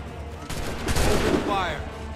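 Musket volley in the video game Assassin's Creed 3, a burst of overlapping shots from mid-distance that builds over a second and rolls out, with shouted voices mixed in.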